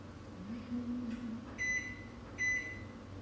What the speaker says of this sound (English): I'm going to put this jam in this microwave for about 25 seconds